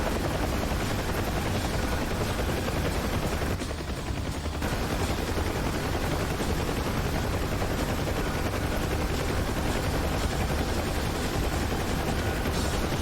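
A KA-50 helicopter in a video game flight simulator roars with a dense, loud, continuous rotor and engine wash, briefly dipping before resuming, with rapid gunfire-like rattling mixed in and no talk.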